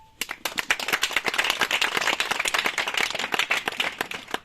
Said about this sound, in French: nous allons l'applaudir